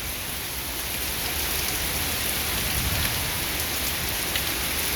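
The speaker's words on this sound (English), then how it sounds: "And it rains." Steady rain falls outside during a storm, a dense, even hiss of drops pattering on surfaces, close and continuous with no voices.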